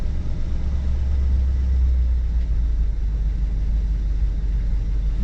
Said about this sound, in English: And it seems to be idling on its own.